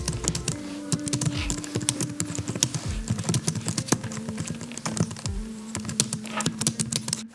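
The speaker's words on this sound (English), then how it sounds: "if you guys are curious on how this keyboard sounds" Steady typing on a computer keyboard, close and clear, with rapid clacking keystrokes in an uneven rhythm and no voices.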